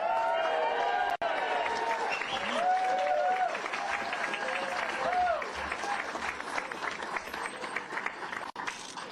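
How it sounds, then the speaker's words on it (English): Crowd applause at the White House welcome for the Taoiseach of Ireland, broad clapping with some cheering that swells and then thins out, with voices and other sounds mixed faintly through it. "please give a round of applause for Southie's own indispensable man, Tommy McGrath."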